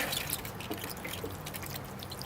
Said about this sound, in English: So now I better give it a watering just to settle everything in.